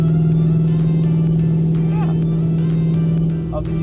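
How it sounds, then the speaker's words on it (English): A car cruising down the road, heard from inside as a steady, loud engine and road drone that holds evenly throughout, with faint voices in the background. "Cruising down the road right now"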